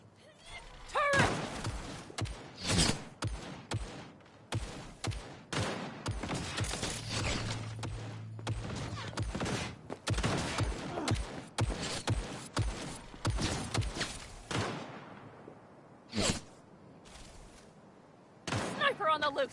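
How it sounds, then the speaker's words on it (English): Turret gunfire in the Cyberpunk 2077 video game: dense bursts of sharp gunshots and clattering mechanical impacts rattle on repeatedly, loud and close, with some brief gaps and occasional voices mixed in. "Turret!"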